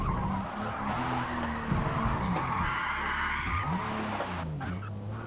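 A 2020 Toyota Supra in a racing game at Spa squeals its tires as the back end steps out over the curbing, with wavering skid tones riding over a loud, continuous engine drone.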